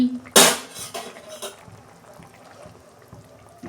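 A lid clanks onto a cooking pan of frying eggplant with one sharp metallic hit, then a few softer clinks and a low sizzle that trails off quietly.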